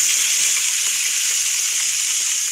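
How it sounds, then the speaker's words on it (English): Omaha Steaks burgers sizzling on a grill, a steady, bright hiss that stays even and fairly loud throughout, heard alone without voices. "That's the sizzle of some burgers on the grill from Omaha Steaks"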